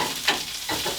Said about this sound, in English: So I've been sauteing my kale for about 3-4 minutes.